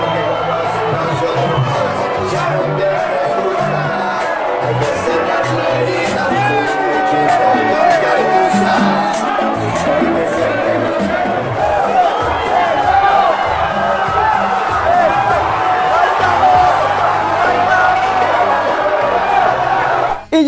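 Crowd noise and cheering as PSG players, Mbappé among them, step off the team bus into their home neighbourhood, a dense steady roar with whoops lasting throughout.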